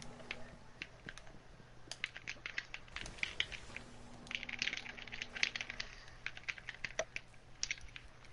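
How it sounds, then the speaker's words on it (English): Rapid, irregular plastic clicking of game controller buttons pressed hard during a Destiny raid, a close, busy patter running throughout beneath faint background game sound. "Who's that clicking? Someone's molesting their controller."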